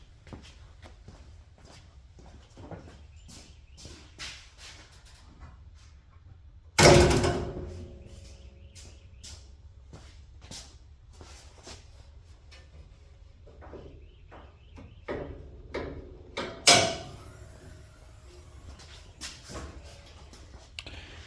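A Hellcat Daytona hood frame, without its outer skin and with a spring welded in, is lifted open and dropped shut, giving two sharp metallic thumps several seconds apart over light handling clatter.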